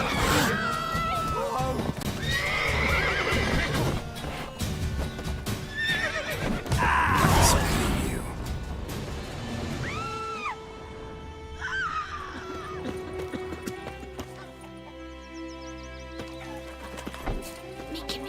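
Horses neigh and whinny repeatedly in The Witcher 3, high shrill cries rising and falling, mixed with hoof clatter and a busy game soundscape, with talking at times.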